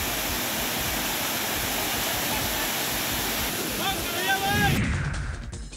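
Water pours over the overflowing Bhushi dam at Lonavala during monsoon rain, a steady, dense rushing roar that continues without a break, with faint voices near the end.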